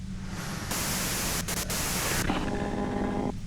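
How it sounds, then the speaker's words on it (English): Harsh radio static hisses from a radio in the video game Disco Elysium, a broad white-noise rush that surges louder midway, briefly dips twice, then settles under a faint steady tone before cutting off. "you can do it through the white noise"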